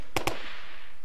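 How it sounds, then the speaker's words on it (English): Two sharp gunshots ring out in quick succession in the survival game Rust, loud and close, followed by a fading tail of ambient noise with no talking. "Oh, they are shooting at me"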